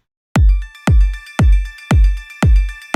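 Two layered pianos panned left and right in an electronic dance drop, striking five loud chord stabs at a steady even pulse, each ringing out with a deep bass body before the next hit, with no voices.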